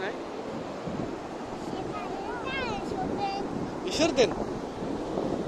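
Steady wind and surf rush along a sea beach, with a constant broadband roar of waves and wind buffeting the microphone, and faint thin whistles or calls rising briefly above it.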